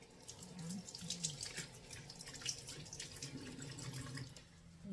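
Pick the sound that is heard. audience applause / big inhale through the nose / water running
water running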